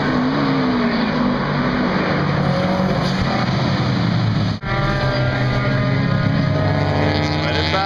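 A race car roars past at full power and then spins its tires in a loud, sustained burnout, the engine note shifting after a brief dip, with a little talking around it.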